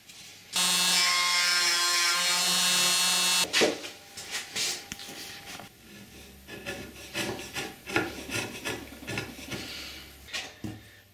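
A file rasps steadily for a few seconds against guitar wood while inlay holes are cleaned out, followed by irregular rubbing, scraping and tapping close by.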